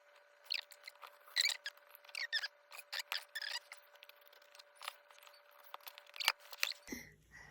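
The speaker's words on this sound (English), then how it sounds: "I'm going to cut her up like this so we get as much of the embroidery as possible." Scissors snipping through embroidered dress fabric in quick irregular cuts, soft and close, each a short crisp shearing rasp, with a faint steady hum in the background.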